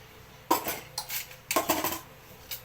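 Plates and dishes clink and clatter during washing, several sharp close knocks and rattles in short bursts over a quiet background.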